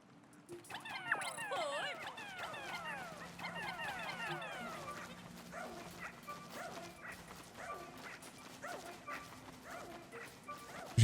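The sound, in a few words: dog barking in the video game Pikmin 4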